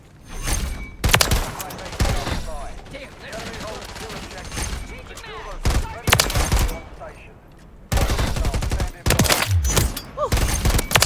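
Heavy bursts of video game gunfire, loud rattling volleys and single shots that come and go in waves, with voices speaking over the action.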